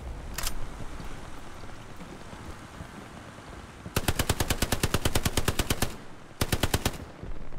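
Machine gun fire in the WWII shooter Hell Let Loose: a single short burst early, then a long rapid burst of evenly spaced loud shots, a brief pause, and another burst over faint background rumble.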